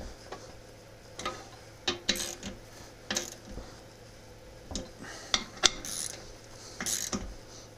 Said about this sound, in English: Okay, go ahead and torque these down.